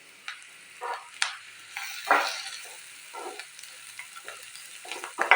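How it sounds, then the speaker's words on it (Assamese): Chilli potato frying in a pan with red chilli and spices, stirred in several separate scraping bursts over a soft sizzle, close up with no talking. "আৰু এইখিনি 1 মিনিট সময় মই ভাজি লওঁ।"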